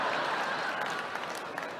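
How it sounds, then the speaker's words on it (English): An audience claps at the 1976 Royal Variety Performance, a steady, moderately dense patter of many hands heard from within the hall and easing slightly toward the end. "Bit of clapping there."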